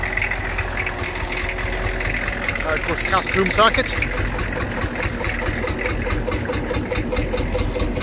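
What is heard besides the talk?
vintage tractors driving past at Combe Steam Rally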